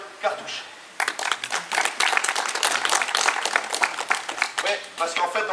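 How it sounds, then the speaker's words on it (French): An audience applauds a slam poet at a French cabaret slam evening, the clapping breaking out loudly after a brief pause and continuing steadily with a few voices mixed in. "Vous pouvez donc applaudir Cartouche."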